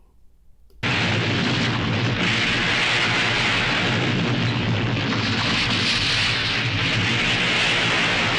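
A villain's lair explodes in the film Inframan: a sudden roar of blast noise cuts in and holds loud and dense for several seconds, a sustained rumbling wash of explosion sound with no pause or talk.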